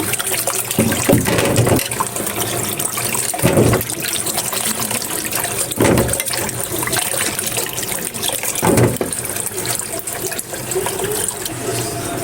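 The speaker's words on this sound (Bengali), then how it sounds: "এই যে আমগুলো ধোয়া শেষ সুন্দরভাবে" Mangoes, cut into pieces with their skins left on, are washed in water, making a steady running and splashing sound with several louder gushing bursts at intervals.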